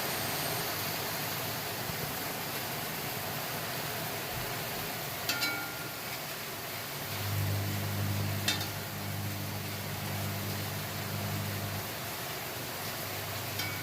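Rain falling outside, heard from a kitchen where mango curry is cooking: a steady, even hiss that continues throughout, with a low hum rising midway and a couple of faint clinks.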